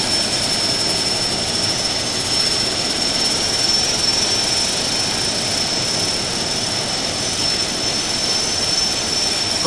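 A TBM 930 single-engine turboprop taxiing in the Infinite Flight simulator, with a loud, steady engine drone and a thin high whine held throughout, no voices.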